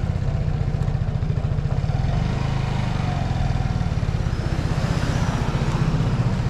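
A scooter pulls away from a stop with a steady, buzzing engine putter that rises slightly as it moves off, close by and continuous throughout.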